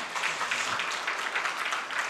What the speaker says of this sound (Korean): 크게 우리 박수로 환영하겠습니다.